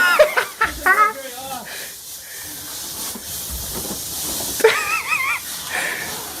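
Water sprays from a sink with a broken connection as a constant hiss under excited talk, with a faint background whine throughout.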